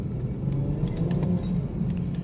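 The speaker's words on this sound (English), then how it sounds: "Let's give the car a little bit of power." Car with a B58 engine and manual transmission on semi-slick tyres, its low engine rumble droning steadily and close throughout as it accelerates, with no talk.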